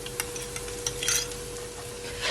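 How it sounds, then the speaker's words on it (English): Lamb chops being stirred in a pan with dark soya sauce and water, quiet light scrapes and clicks over a low simmering hiss with a steady hum. "I'm gonna give it a stir."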